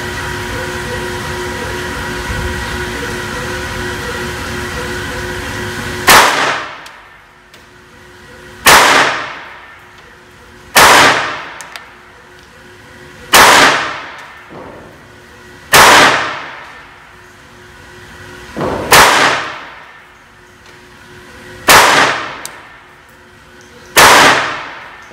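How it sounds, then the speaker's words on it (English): A Beretta 950 .25 ACP pistol fires Speer Gold Dot 35-grain rounds outdoors, eight sharp, loud, separate shots spaced a couple of seconds apart, each ringing briefly before fading. "Now I'm going to try the gold dot, spear gold dot, 35 grain."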